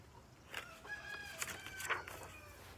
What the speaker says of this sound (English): he has to call back to the other rooster